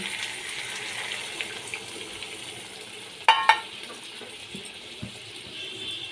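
Spice water is poured into a hot pan of hilsa with mustard paste, producing a soft, watery hiss and sizzle. A pair of sharp metallic clicks from a utensil sounds midway, followed by a couple of lighter knocks.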